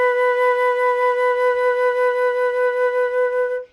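A flute holds a single long sustained note with gentle vibrato, steady and close, with a bright harmonic tone and no other sounds, ending after a few seconds.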